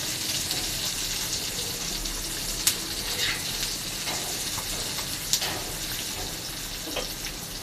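Chopped onion, green chilli and garlic fry in a pan, giving a continuous crackling sizzle with a few sharp clicks and splashy bursts along the way. No one speaks.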